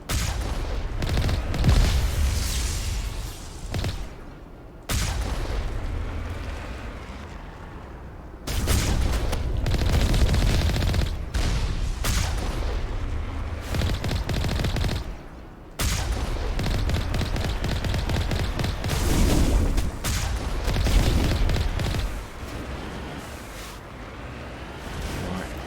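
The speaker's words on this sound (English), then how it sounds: "Shots down from the hills there." Mass Effect Legendary Edition gunfire from the hills comes in dense, sustained bursts of rapid shots, broken by several brief pauses, at a fairly steady, moderately loud level.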